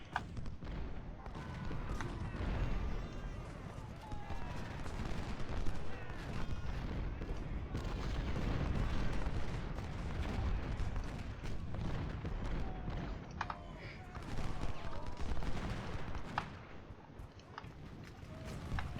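Artillery and musket fire crackle through an Ultimate General: Civil War battle, with scattered gunshot pops and dull booms over a constant low battlefield rumble, at moderate loudness.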